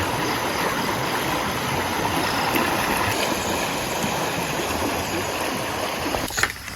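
River water rushing steadily after an overnight flood near a farm field, a continuous broadband wash of flowing current, close and moderately loud throughout with no talk.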